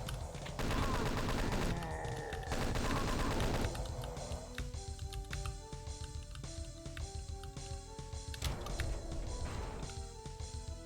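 Chaingunners spray rapid bursts of gunfire in Doom 2, dense rattling volleys near the start followed by sparser shots, clanks and game effects, mid-level and busy with no talking.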